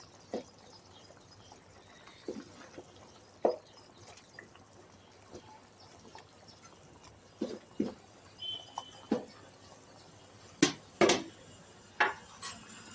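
Cut brinjal curry being stirred in a pot, giving scattered soft scrapes and clinks of a spoon against the pot, irregular and fairly close, with a quiet background between strokes.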